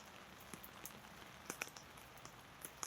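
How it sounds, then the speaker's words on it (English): Rain on a rainy day falling onto puddles and an umbrella, a faint steady hiss dotted with sharp, irregular close drips and taps, no voices. "walking in the rain."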